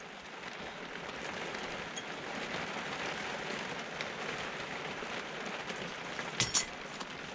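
Steady rain falls outside, a dense continuous hiss of drops on surfaces, with a couple of brief sharper knocks near the end.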